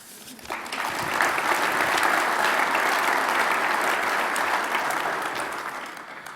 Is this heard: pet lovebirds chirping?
no